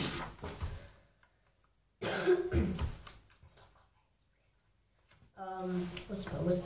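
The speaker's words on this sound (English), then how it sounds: "Keep on coughing, it's annoying." A person coughs a few times in short bursts, with quiet gaps between and some speech nearby.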